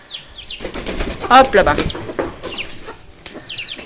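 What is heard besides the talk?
Pekin bantam hen clucking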